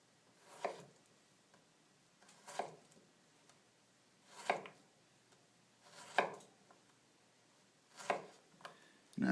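A kitchen knife slicing through a stack of vegetables on a cutting board, guided by the knuckle, making five or six evenly spaced soft chopping strokes, close and quiet, with no talking.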